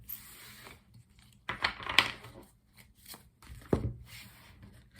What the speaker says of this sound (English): do some shuffling so we can pull 4 tarot cards for the day